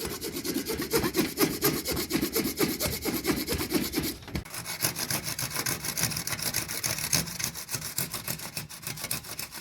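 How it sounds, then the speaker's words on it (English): A hand saw cuts through wood in quick, steady back-and-forth rasping strokes, loud and close, with a short pause midway before sawing resumes, and no voices. "Now I know I'm using the completely wrong saw for this"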